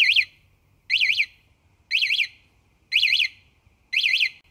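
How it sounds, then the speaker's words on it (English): A motorcycle/scooter alarm's high, warbling electronic warning tone sounds in five short bursts, evenly spaced about a second apart, loud and clear against quiet. "If someone hits it, there first will be a warning."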